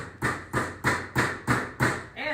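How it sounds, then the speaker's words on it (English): A hammer drives finish nails into a wooden caddy tray on a wobbly table, six evenly spaced, solid blows in a steady rhythm, close and distinct. "taking my finish nails and hammering them in"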